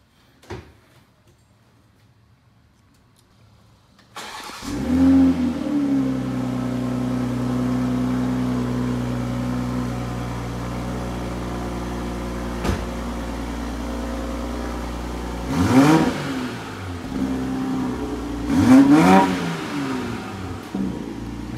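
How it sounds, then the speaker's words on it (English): After silence, a Toyota GR Supra launch edition cold-starts with a quick crank and catch, then idles in a steady low rumble close by, with a sharp tap midway and two short revving blips later. "Actually, you want to start it so we can get a cold start?"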